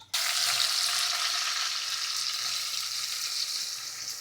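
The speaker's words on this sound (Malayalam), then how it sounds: "ഇതിലോട്ട് തന്നെയാണ് നമ്മളുടെ ഉള്ളി വാട്ടുന്നത്" Onions sauté in coconut oil for biryani with a sudden, loud, steady sizzle that begins abruptly and carries on unbroken, with no voices.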